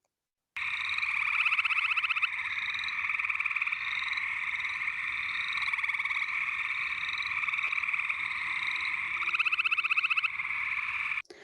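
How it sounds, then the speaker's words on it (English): A dense chorus of gray tree frogs trilling near water at night, steady overlapping pulsed calls that swell louder in places and carry on without a break, with no voices. "So what you just heard was a cacophony of frogs."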